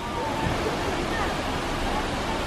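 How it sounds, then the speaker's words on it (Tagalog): A small waterfall in Taiwan rushes in a constant, dense broadband roar, steady and close with no breaks, a hiss of falling water filling the scene. "So, ito na yung waterfalls."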